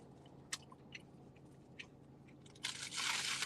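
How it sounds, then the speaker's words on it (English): Crinkling wrapper and crunchy chewing of food inside a car while driving from Brooklyn to New Jersey; a few brief close crunches, then a louder sustained crinkle near the end, with a steady low engine hum underneath. "I apologize if you guys hear crinkling and chewing, but I'm hungry."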